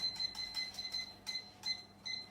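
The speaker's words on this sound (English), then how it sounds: "set my timer for 12 minutes." A kitchen timer gives short, high electronic beeps in quick bursts while being set for a chocolate lava cake bake, fairly faint with brief gaps between the groups of beeps.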